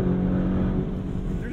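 A 2021 Lamborghini Urus engine revs hard under acceleration, a loud, steady engine drone heard from inside the SUV, with a voice over it.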